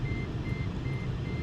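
A truck's reversing alarm beeps in a steady, repeating rhythm at moderate distance over a low rumble of engine and background noise.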